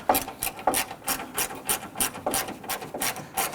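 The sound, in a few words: ratchet tightening grille bolts on Hummer H3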